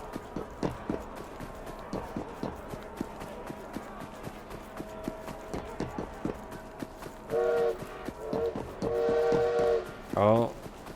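A steam train in Assassin's Creed Syndicate's London prepares to depart, chuffing and clanking in a steady rhythm before several loud whistle blasts ring out in the final seconds.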